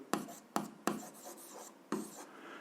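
Pen writing out an algebra solution on paper, a few distinct scratchy strokes with short pauses between them, close and fairly quiet, no talking.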